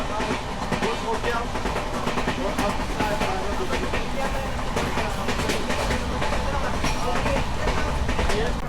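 The Veerbhumi Express rumbles along steadily just out of Indore, a loud continuous roar of wheels and carriage noise with rhythmic rail clatter, heard from near an open coach door with voices underneath.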